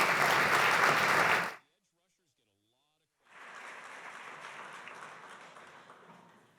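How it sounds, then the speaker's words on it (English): An audience at a regional recruiting presentation applauds a speaker: a loud burst of clapping cut short by a gap of silence, then a second, softer stretch of applause. "So please give her a round of applause."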